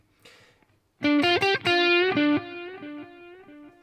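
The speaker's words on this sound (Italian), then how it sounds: "Sentite, le ripetizioni sono più scure" An electric guitar through a Blackstar St. James plugin plays a short distorted phrase, its delay repeats darker and saturated as the notes ring and fade out.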